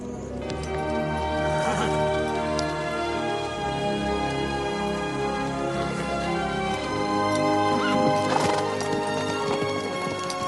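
A horse whinnies loudly twice, with repeated clip-clop of hooves throughout, heard over a dense musical film score.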